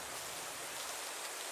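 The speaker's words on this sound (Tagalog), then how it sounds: "biglang bumuhos ang malakas na ulan" Heavy rain pours down in a dense, constant hiss with no breaks, a steady wash of drops with no voices over it.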